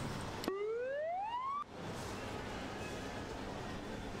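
An ambulance siren in the emergency-services game Emergency 4 gives one rising electronic whoop lasting about a second, followed by a steady low background rumble.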